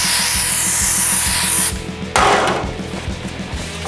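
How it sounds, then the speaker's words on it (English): Brake cleaner is blasted from an aerosol can onto a bead-rolled metal chief skull, a loud, close hiss that cuts off partway through, then a second short burst, with a rhythmic mechanical thumping running underneath. "now I'm gonna blast this with some brake clean"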